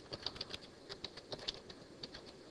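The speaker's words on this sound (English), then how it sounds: "and hitting the Enter key" Quiet computer keyboard typing, a run of light, irregular key taps ending with the Enter key at close range with no voices.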